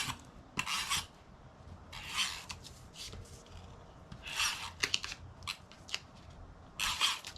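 Tape being pulled and cut for a paper scrap craft project, with several short bursts of rasping, tearing and snipping separated by quiet pauses, close up and fairly soft, with no talking.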